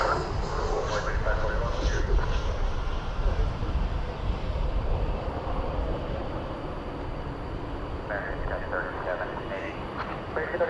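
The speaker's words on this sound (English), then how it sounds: "An Airbus A319 just about to touch down" An American Airlines Airbus A319 arriving from McAllen, Texas, touches down at DFW Airport at night, a steady broad roar of jet noise that holds loud throughout, with voices faintly mixed underneath.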